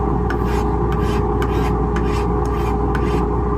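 A wood rasp files the wooden head of a pre-1900 golf club in short, regular scraping strokes, close and steady, about seven strokes over a constant background hum.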